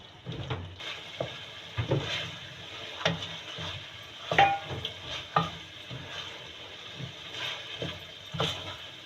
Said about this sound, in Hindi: ये मटर भी हमारी कीमे के साथ अच्छी तरह भुन जाएगी